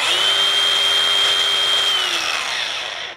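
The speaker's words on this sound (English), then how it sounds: "so we got the grinder all set up and ready to go" A DeWALT DCG416 20V cordless angle grinder runs alone at a steady high-pitched whine, close and fairly loud, then begins to spin down at the end.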